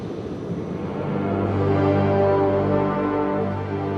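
An airliner landing, its engines roaring in a loud, steady cabin drone that swells and holds without talk.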